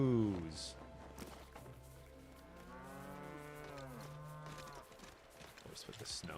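Cows mooing in a video game: a long, drawn-out bovine moo with a sliding, wavering pitch rises and falls over a few seconds, fairly close, while a person talks faintly around it.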